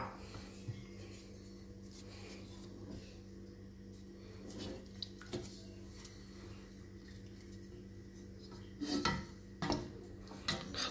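Moroccan khlii, dried preserved meat, being stirred in a pot, with faint scraping and clinking of a utensil against the metal, quiet and intermittent with a few sharper knocks near the end.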